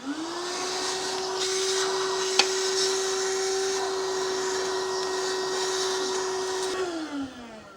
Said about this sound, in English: by using my vacuum. I don't want to blow those in